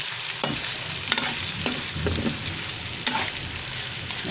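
Sugar is stirred in a hot pan, a steady sizzle with several sharp scraping knocks of the utensil against the pan, close and alone without talk.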